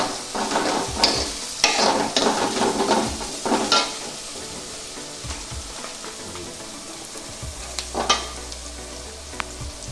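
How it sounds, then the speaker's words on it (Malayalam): Sliced onions and green chillies sautéing in a pan for Kerala-style beef pepper roast, with bursts of crackling sizzle and stirring strokes up close, fading to quieter frying later. "അപ്പോൾ ഈ ഉള്ളി സവാള ഒന്ന് വഴറ്റി വന്നിട്ടുണ്ട്."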